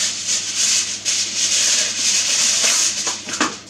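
Aluminum foil is spread and pressed over a rosemary-seasoned turkey, giving a continuous close crinkling, rubbing rustle with a few sharper crackles near the end and no talking.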